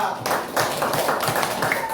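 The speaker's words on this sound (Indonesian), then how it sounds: "tepuk tangan untuk kelompok dua." A classroom of students claps for a group after its presentation in a school science lesson, a short burst of uneven, close hand claps, with some voices mixed in.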